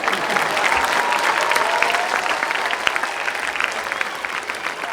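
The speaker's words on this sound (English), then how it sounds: "Claps." Audience clapping steadily at a school valedictory function, a dense, even wash of many hands sustained throughout at a fairly loud level without pause.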